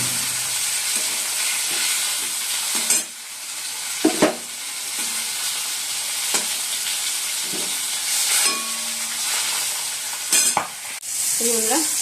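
Steady, loud sizzling of potatoes and bitter gourd frying in a pan, with occasional clinks and scrapes of a utensil stirring throughout.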